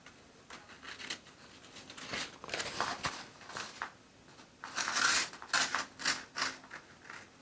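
Scissors cut through a paper sewing pattern for the bodice of a strapless tube dress, giving a series of crisp snipping and rustling strokes in irregular bursts, close by and moderately quiet, with no talking.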